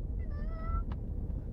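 A person imitates a cat with a short, close, sing-song human meow, one drawn-out call followed by a brief faint squeak over steady room hum.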